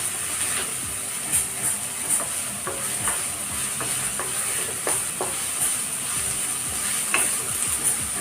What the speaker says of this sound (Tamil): எண்ணெய் நல்லா காஞ்ச பிறகு போடுங்க. அப்படின்னா தான் சீக்கிரம் இந்த வதங்கும்.